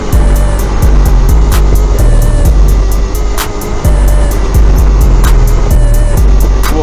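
Piaggio MP3 500 LT Sport three-wheeled scooter accelerating hard at full throttle, a loud close engine roar that climbs through repeated rising pitch sweeps with brief dips, strong wind noise throughout and no speech.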